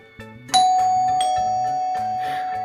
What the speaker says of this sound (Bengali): কলিং বেল এই বাজলো বলে